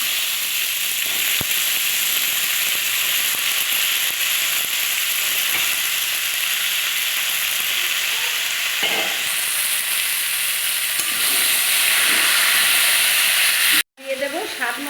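Chopped mixed vegetables sizzle loudly in a hot pan, a steady close hiss with occasional stirring scrapes and a brief cut near the end.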